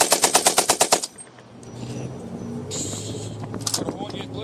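An M60 machine gun test-fires at Ironfest 2019 in a rapid, loud burst of about nine evenly spaced shots, then stops, leaving outdoor crowd noise and distant voices.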